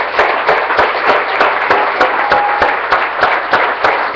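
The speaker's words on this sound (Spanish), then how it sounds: "Denle las palmas al Señor." A church congregation claps in praise, a loud, steady rhythmic beat of many hands together keeping time with a dense crowd wash underneath, close and full, with no talking.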